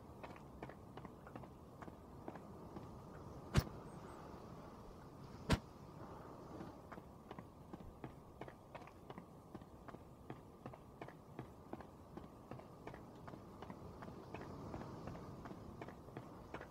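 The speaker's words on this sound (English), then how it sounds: "Thought I heard footsteps." Soft, steady footsteps crunch along at a walking pace through the survival game The Forest, with two sharp clicks standing out among the quiet, regular steps.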